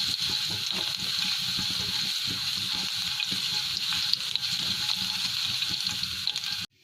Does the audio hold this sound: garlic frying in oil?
yes